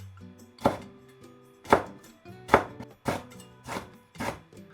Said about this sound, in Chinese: 再準備2個小米椒， 切成圈